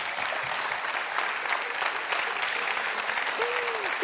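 Studio audience applause fills a television talk-show set, a steady dense clapping from a sizable crowd held at even loudness throughout, with a brief voice rising near the end.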